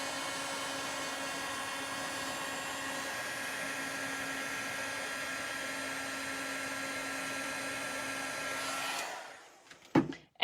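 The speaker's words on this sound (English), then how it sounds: "And then emboss with your heat tool." Heat embossing tool blowing steadily on embossing powder sprinkled on a handmade Christmas tag, a constant close whirring hum that runs about nine seconds, then cuts off, followed by a few small handling knocks.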